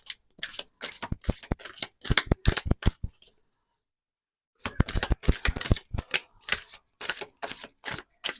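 A deck of tarot cards is shuffled in quick bursts of crisp riffling flicks, close and fairly loud, with a short silent pause in the middle before the shuffling resumes.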